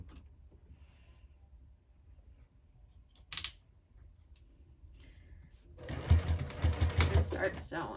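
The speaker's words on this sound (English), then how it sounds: "Start sewing." A sewing machine stitches through a handbag, with a click and quiet handling first, then a close, rapid mechanical whirring run of stitches near the end, while a person speaks.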